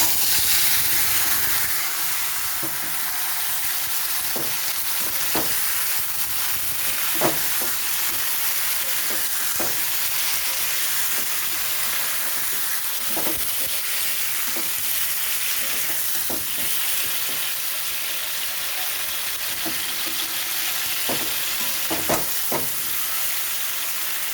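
Tomatoes fry and are stirred in hot oil with tempering spices for a tomato pickle, giving a steady close sizzle broken by scattered scraping taps of the spoon, with no talking.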